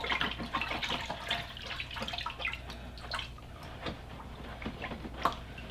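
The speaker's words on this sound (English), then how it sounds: "I can see that the water's draining out" Water draining from a papermaking deckle full of pulp, a steady stream of fine trickles and irregular drips, quiet and close, with no talking.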